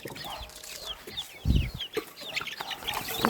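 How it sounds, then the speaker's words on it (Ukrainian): Small bantam chickens cluck and squawk in a busy cluster, with scuffling and fluttering as they scatter, close by and fairly loud. "Дивіться, наскільки бентамочки менші за інших курей."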